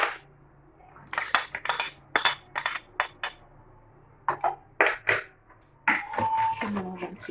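A utensil stirs a tuna tortilla mixture with olives in a bowl, giving sharp intermittent clinks and scrapes in uneven bursts against quiet kitchen background.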